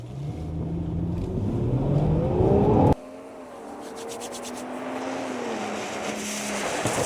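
A Ferrari Purosangue accelerating hard in cold conditions during a brake test, its engine rising loudly in pitch before shifting to a steadier, lower roar as it pulls away.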